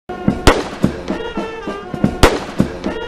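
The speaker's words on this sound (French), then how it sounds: "21 coups de canon tirés à blanc résonnent depuis le parvis du Jubilee House d'Accra au Ghana." Twenty-one-gun salute of cannons firing blanks on the forecourt of Jubilee House in Accra, Ghana: a quick series of sharp, loud booming reports at irregular intervals, each echoing briefly.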